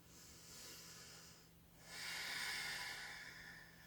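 Deep, slow breaths during a yoga pose, a soft airy hiss on the inhale, a brief pause, then a longer, fuller exhale, faint and close with a low hum underneath.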